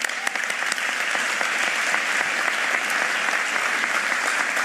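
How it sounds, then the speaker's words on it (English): An audience at the Philadelphia mayor's 100-days-in-office event breaks into loud, sustained applause, a dense patter of many hands clapping steadily and close throughout with no pauses. "That's a round of applause."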